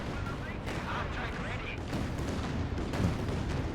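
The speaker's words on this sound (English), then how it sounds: "with the Panzerwerfers, the barrage as well" Panzerwerfer rocket artillery barrage in a multiplayer war game match, a dense rumbling wash of distant explosions and gunfire rolling continuously with speech-like chatter mixed in.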